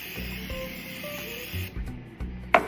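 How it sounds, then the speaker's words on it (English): A continuous hiss of cooking oil spray into a glass bowl, close and moderately loud, ending after under two seconds, followed by quiet handling and a brief clink. "So I'm gonna spray a little oil."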